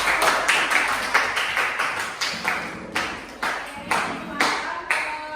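A classroom of students claps in rhythmic unison, about a dozen sharp, close beats at a steady, slightly uneven pace with faint voices mixed in.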